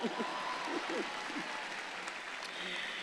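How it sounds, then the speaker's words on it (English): Soft, steady applause from a commencement audience greeting the class valedictorian rises as a distant wash of many hands, with a brief voice over it at the start. "Y'all can clap because I said that correctly."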